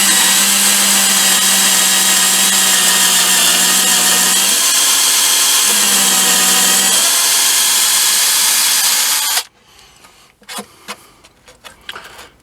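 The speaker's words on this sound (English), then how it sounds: "I've drilled some guide holes. Now I'm going in with a bigger screwdriver, a bigger drill bit" A loud, high-pitched power drill whines steadily for about nine seconds drilling holes in a wooden guitar speaker cabinet with a large bit, pitch shifting slightly under load, then stops, leaving faint clicks and handling noises.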